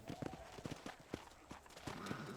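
Hooves of a horse in Red Dead Redemption clop in an irregular, close rhythm of quick thuds as the animal shuffles and turns, with a brief tonal sound under the steps.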